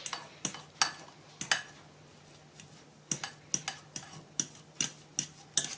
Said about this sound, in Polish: Żółtka musimy sobie rozgnieść po prostu widelcem.